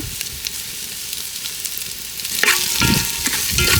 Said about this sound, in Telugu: సాల్ట్ వేసుకొని కలుపుకుంటే మనకు ఉల్లిపాయలు అనేవి బేగా వేగుతాయి